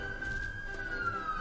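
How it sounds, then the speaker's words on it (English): Emergency vehicle sirens pass in the background outside, a steady faint wail under low room noise, heard only for a brief moment. "more annoying sirens drive by in the background"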